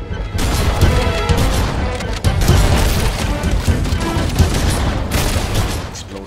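Gunfire and explosions in Halo: Combat Evolved blast without pause, loud and dense, as booms and crashes pile on one another in heavy combat.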